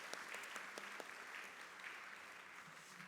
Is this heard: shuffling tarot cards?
no